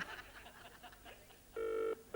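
A telephone ringing out on a call, heard faintly down the line as a single sustained ring tone near the end, after quiet background murmur.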